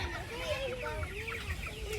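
Chickens cluck and murmur softly nearby, a continuous low chatter of several birds, with faint background noise.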